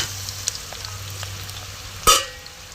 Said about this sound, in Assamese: পিঁয়াজখিনি ধুনীয়াকৈ মই ভাজি ল'লোঁ